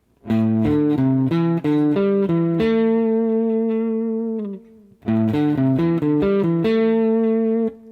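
An electric guitar plays a quick ascending and descending scale in thirds, each note distinct, with sustained ringing notes, then the pattern repeats.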